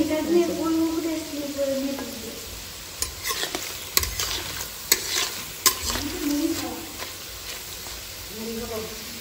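Onions are dropped one at a time into a hot pan of oil and fried, giving a constant sizzle broken by sharp clinks and scrapes of a stirring spoon. A voice murmurs softly in the background.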